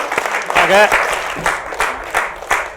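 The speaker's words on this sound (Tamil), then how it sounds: "ஒரு பெரிய கைத்தட்டல் கொடுத்துடலாம்." An audience claps at a 200th-episode celebration of a Tamil show in Coimbatore, scattered and uneven hand claps mixed with voices and a short tonal sound near the start.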